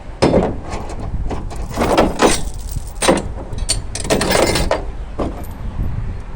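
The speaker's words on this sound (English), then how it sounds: "that's a gate catch" A metal gate catch is handled and worked, giving a string of clanks, clicks and scraping knocks in uneven bursts, close and fairly loud.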